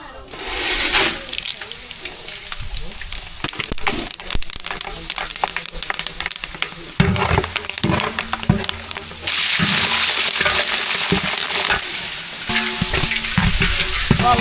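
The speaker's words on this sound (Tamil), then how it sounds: "பிரியாணி தாளிக்கிறதுக்கு எண்ணெய் சூடாகிடுச்சு. பட்டை வகையெல்லாம் சேர்த்துக்கலாம்." Whole spices such as cinnamon sizzle and crackle in hot oil in a pan as biryani seasoning begins, with bursts of frying and stirring clatter and someone talking over the cooking.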